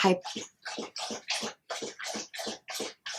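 Rapid, rhythmic lapping of an animal drinking water, about ten wet splashy laps in quick succession, close and clear with short gaps between.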